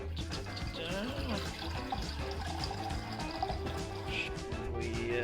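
Filtered water poured for making tea, a steady continuous splashing stream from start to finish with no talk over it.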